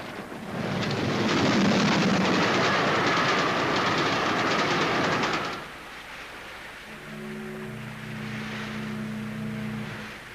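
A moving passenger train rumbles loudly with a dense, steady clatter, then the noise drops suddenly and a softer interior hum with a low droning tone continues.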